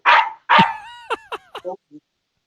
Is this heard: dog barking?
yes